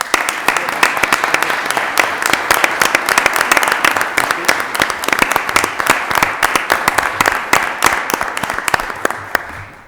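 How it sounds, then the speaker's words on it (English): An audience at a Lowell city council meeting applauds a donating family with steady, dense clapping that carries on across the whole stretch and thins slightly at the very end. "receive a round of applause for your generous donation"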